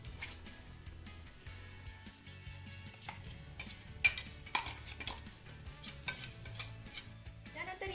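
A cook scrapes a finely ground paste of coriander stems and spices out of a steel grinder jar onto a plate, giving repeated close clinks and scraping ticks over a low background hum.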